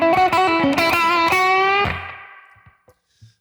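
Electric guitar with a slightly distorted tone plays a short blues lick in E from an 8-bar solo: several picked and bent notes, then a sustained note that rings out and fades to near silence.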